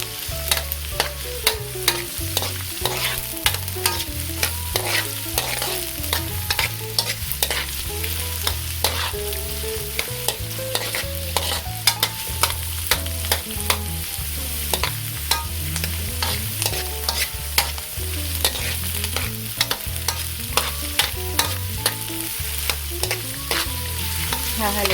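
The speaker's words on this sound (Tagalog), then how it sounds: "Hahaluin lang po ng hahaluin para hindi po masunog yung ating bawang at saka yung ating sibuyas" Onion and garlic sauté in a pan for a chayote and sardine dish, with a constant loud sizzle and frequent scraping, clinking strokes of a spoon stirring close by.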